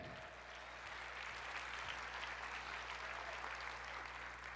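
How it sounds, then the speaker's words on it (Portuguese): A church congregation applauds together, a dense, even wash of clapping hands from many people holding at a steady level throughout, with no voices standing out above it. "Aplauda o Senhor"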